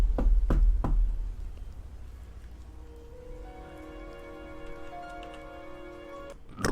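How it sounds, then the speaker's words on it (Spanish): Three soft knocks of a fist on a door come at a steady pace, close and distinct, and then a quiet hum lingers afterward. "Levanté mi puño y golpeé la puerta con suavidad."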